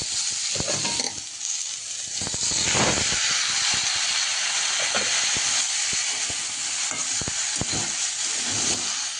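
Water poured into a hot pan of soaked moong dal and broken wheat fried with cumin and turmeric powder, a loud hissing burst of steam over steady sizzling, with stirring clinks, close and without talk.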